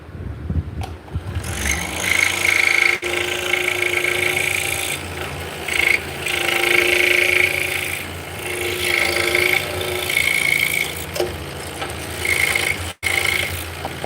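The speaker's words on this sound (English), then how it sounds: "So what we just did was we cut out a little mortise." A small wooden mortise is cut out with a hand tool, giving a steady rasping, scraping rhythm of strokes against the wood, close and fairly loud, with brief pauses between bursts and no talking.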